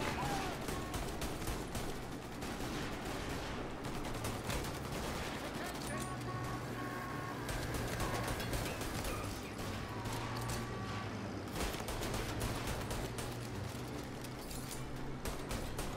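Video game shootout with sustained gunfire and bursts of shots running throughout, dense and fairly loud, under a busy mix of game sounds and occasional voices.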